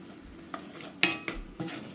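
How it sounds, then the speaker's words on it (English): White onion sautéing in a pan, with soft sizzling and three or four quick spatula scrapes and clinks against the pan, close and fairly quiet. "I'm just going to saute this until it becomes translucent"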